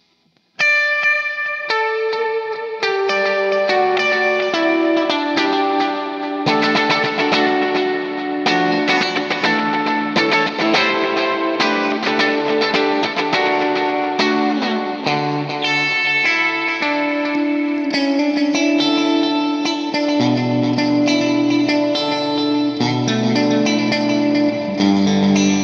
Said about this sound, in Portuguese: Eu vou ligar um delayzinho, um reverb aqui, fazer uma graça para vocês sentirem.